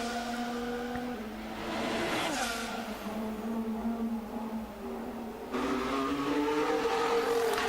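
A Formula 1 car's engine screams through an onboard lap of Monaco in 2023, holding a loud, steady high-pitched whine that rises and falls with the gears, close and continuous.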